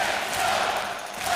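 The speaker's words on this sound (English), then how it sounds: "the crowd's starting to whoop it up" Hockey arena crowd whooping and cheering during a junior game, a steady roar of many voices with a higher pitched whoop riding on top, sustained and moderately loud.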